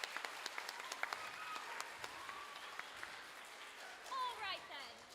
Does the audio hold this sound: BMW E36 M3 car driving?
no